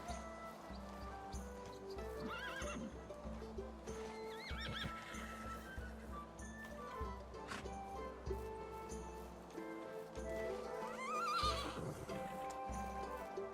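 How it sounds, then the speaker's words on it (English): Horses and donkeys in stables in the video game Medieval Dynasty, repeated neighs and whinnies with hoof clip-clops and shuffling, moderately close over a quiet ambient background. "we have the stables with the donkeys and the horses together."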